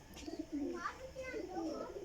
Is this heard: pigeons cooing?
yes